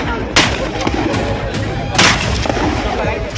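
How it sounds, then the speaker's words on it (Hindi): Rapid gunfire beside a pond, a steady crackle of overlapping shots with two louder, sharper bursts standing out and faint voices underneath. "ताबड़तोड़ फायरिंग जारी है।"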